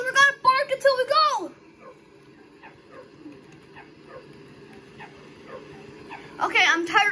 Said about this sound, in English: Come on, Walter, we gotta bark until we go.